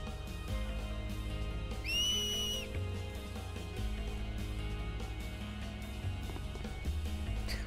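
A sharp two-tone whistle, like the one used to cheer on Blitz players in the video game Final Fantasy X, rings out briefly over steady game music.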